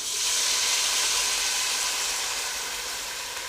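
Water is poured into a hot pan of dal mash masala, setting off a loud sizzling hiss of steam that starts abruptly, stays strong, then slowly fades.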